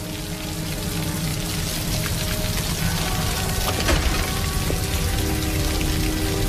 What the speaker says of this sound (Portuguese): E aí a chuva começou